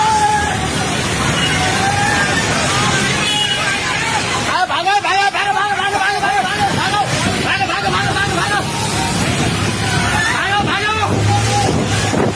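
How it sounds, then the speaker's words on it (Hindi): Floodwater roars through a village street in Nepal during a flash flood, a constant loud rush with crowd shouting and voices clamouring on top of it the whole way through. "देखते ही देखते पलक झपकते ही सैलाब का पानी सड़कों तक जा पहुंचा"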